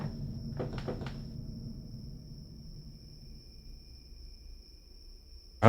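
Door in a video game being tried, with a few quick clunking rattles early on, then a low steady hum until a sudden sharp noise at the end.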